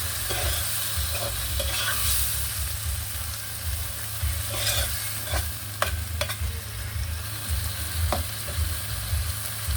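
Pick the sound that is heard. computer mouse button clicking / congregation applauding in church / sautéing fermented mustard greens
sautéing fermented mustard greens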